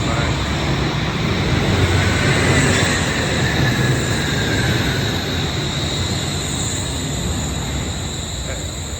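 Wuppertal's Schwebebahn suspension train approaching overhead, a loud, steady broadband rumble and rush that holds throughout and eases slightly toward the end.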